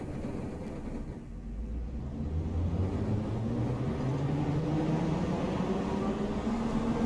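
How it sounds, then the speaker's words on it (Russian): An Ezh 81-707 metro train in the Garry's Mod Metrostroi game pulls away with a rising motor whine and a steady rolling rumble that builds and holds, with no one speaking. "Как видите, состав едет и работает."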